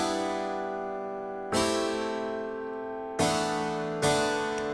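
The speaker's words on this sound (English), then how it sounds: "It's a harpsichord. It sounds like this." Harpsichord plays an instrumental part, bright plucked chords struck three times and left to ring and fade, close and alone with no talking.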